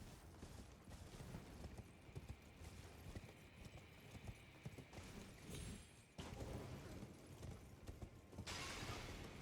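Horse hooves galloping in the Elden Ring Shadow of the Erdtree video game, a fast continuous clip-clop rhythm close up, joined by brief game effects and a brighter rush near the end.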